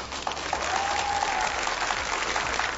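A crowd at a Georgian sports university event breaks into steady, dense applause that holds for the whole stretch, with a faint whistle rising briefly through the middle.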